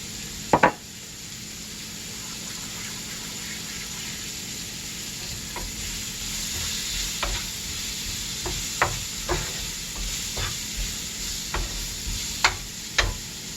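Onion fries with pepper in a pan for a potato pizza, a steady soft sizzle with sharp taps of a utensil striking the pan at irregular intervals, no voices.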